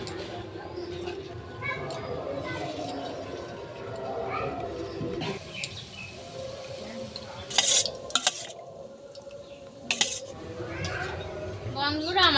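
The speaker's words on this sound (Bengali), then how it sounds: "এবার আমি বাকি মিষ্টিগুলো ভেজে নেব।" Gulab jamun sweets fry in hot oil with a soft, steady sizzle, punctuated by metal utensil clinks and scrapes against the pan.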